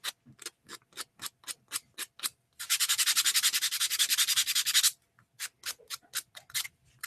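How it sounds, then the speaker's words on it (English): Sanding rounds over the edges of an acrylic prop piece with short rhythmic strokes, then a sustained stretch of fast continuous rubbing, then more spaced strokes, all close and clear with no voices. "I'll just round the edges over a bit."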